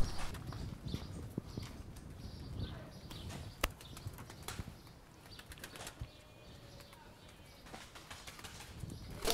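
Mardin pigeons are lifted out of their coop, with sharp bursts of wing flapping, scuffling and soft cooing close by, while people talk over the activity.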